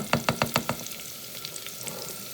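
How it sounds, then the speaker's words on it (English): Chopped onions for shepherd's pie go into a hot pan, a quick run of five rhythmic thumping scrapes as they are tipped and stirred, then settle into a quiet, steady sizzle, close by and without speech. "here are our onions, nice and chopped. I'm going to get those in and saute them."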